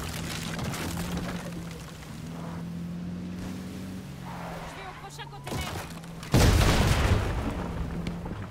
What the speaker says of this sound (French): Ça va tenter une balle de snipe, les gars.